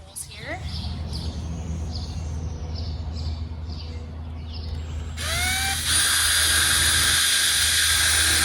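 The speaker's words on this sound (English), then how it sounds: "first I'm going to drill my pilot holes here" A power drill bores pilot holes in wood outdoors in a garden, spinning up with a rising whine into a loud, sustained high-pitched drilling after a stretch of birds chirping over low background hum.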